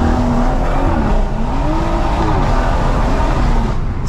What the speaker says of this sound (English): So that's me smoothing it into the power